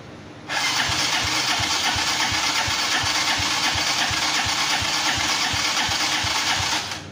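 Coolster 250cc ATV engine cranking then catching into a steady idle, a rapid even putter with regular low thumps, loud and close, running alone until cutting off near the end.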